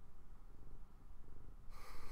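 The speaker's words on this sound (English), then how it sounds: "Being everybody's favorite cat." A house cat purring softly in a close, steady, rumbling rhythm, followed by a brief louder rustle or breath near the end.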